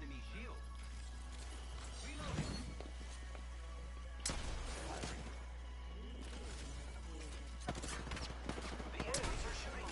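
Enemy gunfire in a video game: sharp, broadband bursts of shots crack out at intervals over a steady droning background, with scattered smaller impacts and mechanical rattles in between.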